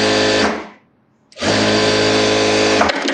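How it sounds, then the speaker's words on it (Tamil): A sewing machine stitches a sleeveless blouse in a loud, fast whirring burst, stops for about half a second, then runs again at full speed close up. "நான் உங்களுக்கு இப்போ தையல் போட்டு காமிக்கிறேன்."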